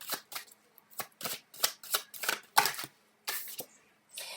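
Tarot cards being shuffled, a series of crisp riffling bursts with short pauses between them, close and fairly quiet with no voice over them.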